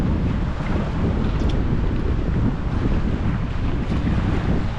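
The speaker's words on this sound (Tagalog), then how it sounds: "Grabe yung alon dito." Strong sea waves roar in a steady, loud wash of surf mixed with buffeting wind against the microphone, continuous and close throughout with no voices.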